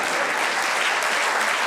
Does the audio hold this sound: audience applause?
yes